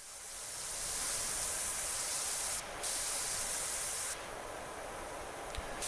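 A pressure washer sprayer in PowerWash Simulator 2 hisses in a loud, steady jet, cutting out briefly twice before resuming, with no one speaking.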